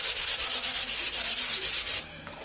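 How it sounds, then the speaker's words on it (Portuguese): Sandpaper is rubbed back and forth over dried glue on a wooden drawer unit, making about a dozen quick, close, rhythmic scratchy strokes before stopping abruptly. "Aqui já tá bem sequinho, já dá pra eu lixar. Deixa eu lixar aqui agora."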